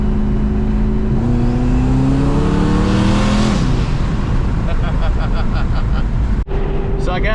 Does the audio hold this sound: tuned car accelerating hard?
yes